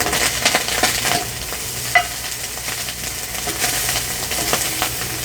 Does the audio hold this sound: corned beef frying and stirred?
yes